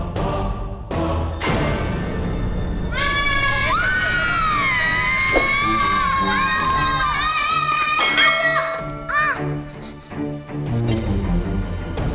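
High, wavering screams of a woman shocked by a ghost ring out over a loud crowd-like din, several long piercing cries rising and falling through the middle of the clip.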